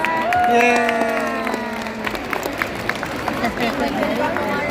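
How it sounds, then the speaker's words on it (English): Spectators at a sea lion show clap and cheer. A voice talks at the start, and scattered claps and crowd noise follow at a moderate distance. "let's put one more round of applause"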